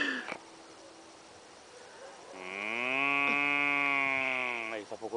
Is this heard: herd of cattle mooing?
yes